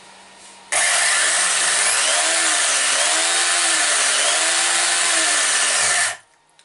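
Small model car engine howling loudly for several seconds, a high buzzing whine that wavers up and down in pitch before cutting off abruptly.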